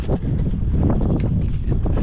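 Strong northeast monsoon (amihan) wind buffets the microphone in a steady, heavy rumble with gusty surges throughout.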